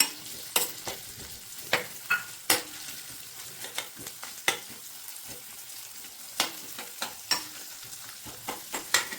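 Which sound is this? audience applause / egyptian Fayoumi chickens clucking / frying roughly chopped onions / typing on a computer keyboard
frying roughly chopped onions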